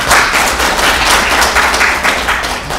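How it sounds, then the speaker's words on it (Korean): An audience at a seminar hall claps together in a loud, dense burst of applause that carries on for a few seconds. "사모님한테 박수 한번 쳐주세요"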